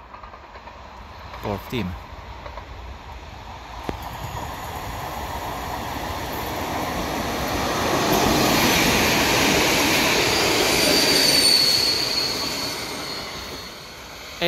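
A regional train passes at the Glogovat rail junction in Romania. A low rumble swells into a loud, broad roar with faint wheel squeal, peaking mid-clip and then easing slightly. A brief voice is heard near the start.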